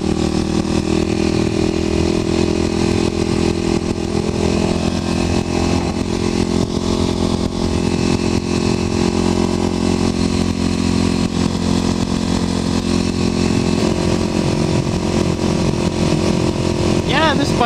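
Kawasaki KLX250sf motorcycle engine running steadily while riding through open country, a continuous mid-pitched drone with wind noise, loud and close throughout, with a brief shift in tone near the end.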